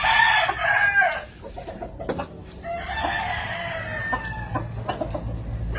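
A handful of chickens, a small batch of birds readied for delivery from Batangas to Cagayan, crow and cluck close up. Two long crows are separated by a jumble of clucking and scratchy calls.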